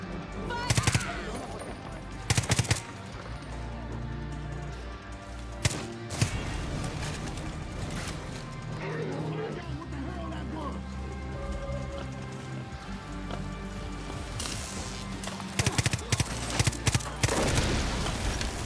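Heavy gunfire in Far Cry 5 New Dawn, with bursts of rapid automatic shots and loud single cracks scattered over a continuous game soundtrack and ambience.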